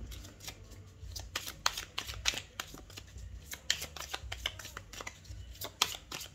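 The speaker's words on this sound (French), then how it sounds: "Allez, 3 cartes pour la santé." Tarot cards being drawn and shuffled, a rapid run of crisp papery riffles and slaps that comes in close, uneven bursts with no talking.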